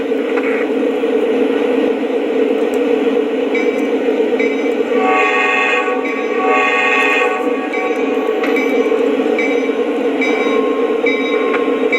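A steady, continuous rumble of a model Lionel Amtrak F40PH diesel locomotive running, with a few brief higher tonal squeals or whines, loud and close with no talking.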